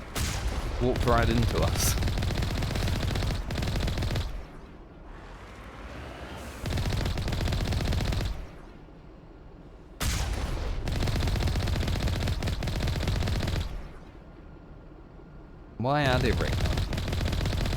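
Turrets firing in Mass Effect, sustained bursts of rapid automatic gunfire that start and stop in long stretches, loud and close, while a person talks in the pauses and over the shooting.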